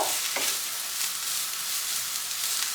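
Chichinga (snake gourd) seeds frying in a pan together with onion, garlic and shrimp heads, giving a steady, close broadband sizzle with a few light stirring scrapes and no talk.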